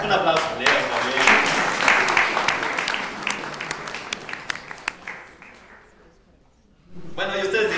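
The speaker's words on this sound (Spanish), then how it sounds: "Un aplauso, Leo, también." Lecture audience applauding; sustained clapping from a crowd that tapers off into near silence before a speaker's voice resumes at the end.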